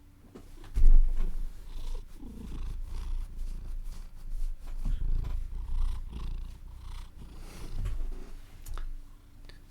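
A cat purrs steadily and close by for nearly ten seconds, a soft, continuous low rumble that swells and fades with each breath, with no voices over it.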